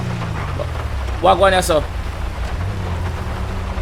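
Steady rain with low thunder rumbling in the GTA 5 video game, a continuous wash of rainfall under a brief spoken question near the middle.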